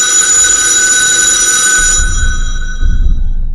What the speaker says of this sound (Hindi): एक सुबह अनुज के घर उसकी नानी का कॉल आया।